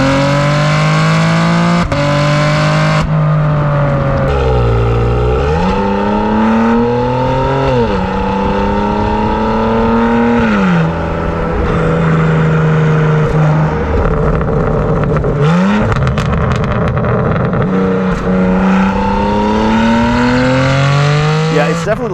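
A BMW G80 M3 with aftermarket mid-pipe and downpipes revs and accelerates hard, its loud engine and exhaust note climbing and falling through repeated gear pulls across the whole stretch.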